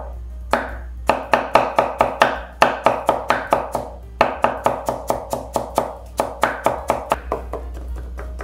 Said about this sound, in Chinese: 切丝后再切末